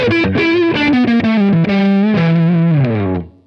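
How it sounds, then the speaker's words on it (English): Electric guitar through an Orange OR50 amp head, a loud sustained distorted melodic phrase with gliding notes that rings out and fades at the end. "find that right there with this guitar and this amp"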